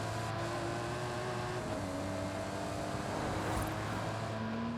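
Car engine in the Forza Horizon 5 racing game, a steady droning hum with shifting engine tones that holds evenly throughout.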